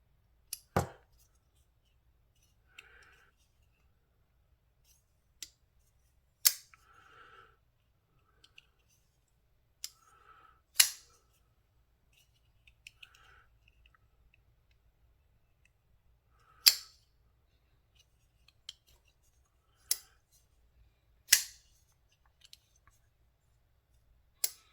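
A Bestech Skirmish folding knife snaps open and drops shut again and again, giving sharp isolated clicks spaced a few seconds apart in a quiet room, with faint handling noise between them.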